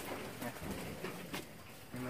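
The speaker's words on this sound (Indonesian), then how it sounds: "Ini merpatinya teman-teman." Pigeons sold for about 10,000 rupiah coo softly in low, repeated murmurs against a noisy, rustling background.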